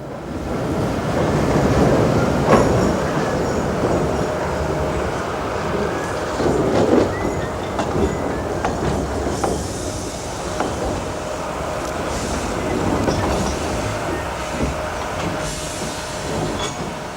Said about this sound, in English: the locomotive runs back down the gradient into the tunnel from which it returns to couple onto the empties